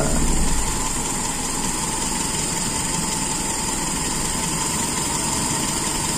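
An engine idling steadily while its carburetor is tuned with a large idle jet: a continuous, even drone with a slight rise at the very start, close and fairly loud, with no talking.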